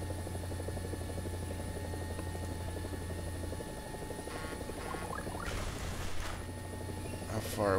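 A helicopter in the video game War Thunder drones steadily with a loud, continuous rotor and engine hum, joined near the end by brief mechanical clatter and bursts of noise.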